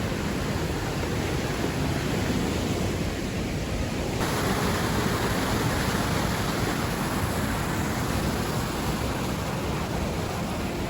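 Steady, dense roar of falling water, loud and unbroken throughout, like a nearby rainforest waterfall at Cradle Mountain pouring without pause.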